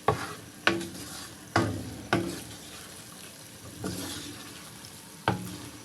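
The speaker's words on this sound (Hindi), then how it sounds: "तो डाल के हम अच्छे से मिक्स करेंगे।" Potato and eggplant sabzi is stirred in a pan, a handful of sharp spoon scrapes landing at irregular intervals over a soft, faint sizzle, with no talking.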